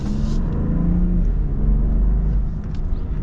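A 2025 Ram pickup truck accelerates from a stop, a loud, steady engine rumble and road whir heard from inside the cab, no talking.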